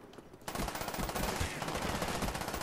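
Rapid automatic gunfire in Black Ops 1 bursts in loud and close, a dense rattling stream of shots that carries on without a pause.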